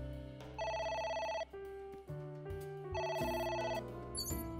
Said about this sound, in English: we just have to ignore the phone again.